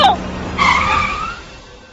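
A car is brought to a sudden stop on a road, and its tires squeal briefly in a loud, close skid that fades within about a second. A short vocal sound comes just before it.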